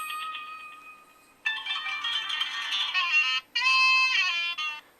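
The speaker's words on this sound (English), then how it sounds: "Notification ringtone, that's when you get emails" A Sony Ericsson Xperia X10 phone plays its email notification ringtone: a bright electronic melody of tonal phrases, a softer opening, then louder repeated bursts with a short gap, heard alone and close.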